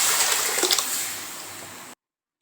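Rasam pours into a hot pan of fried mustard seeds and chilies with a rushing, splashy sizzle that gradually settles, then stops abruptly.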